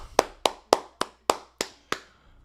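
One person claps by hand seven times in a slow, even rhythm. Each sharp clap is close and fairly quiet, with a brief decay and no other sound between.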